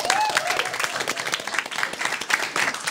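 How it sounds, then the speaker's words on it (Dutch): A TV studio audience breaks into brisk, dense clapping that carries on steadily for the whole moment, close and lively with a few voices mixed in. "Nog een applaus voor hun."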